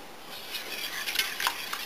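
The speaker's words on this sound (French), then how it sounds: "je mélange pour homogénéiser cette pâte très liquide" Very runny sourdough batter with oil being mixed by hand, a few soft wet swishes and light scrapes bunched in the second half, close and fairly quiet.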